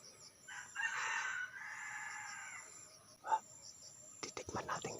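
A wild rooster crows once in a forest, a drawn-out call at middle distance, with crickets and faint rustling behind it and a short bird note and scuffling afterward.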